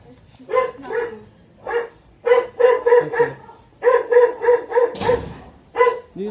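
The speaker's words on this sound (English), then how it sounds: "Oh shit, there's a dog." A dog barks repeatedly in quick bursts, loud and fairly close, with short pauses between the barks and people's voices in the background.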